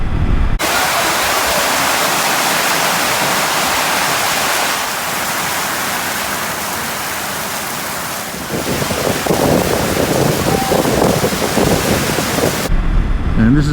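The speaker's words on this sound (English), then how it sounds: "Last time I was here we had a massive rainstorm." Heavy rain pours down steadily in a massive rainstorm, seen from a pub balcony in a small South Australian town, a dense loud hiss of water with a heavier, splashier stretch toward the end; no clear thunder stands out.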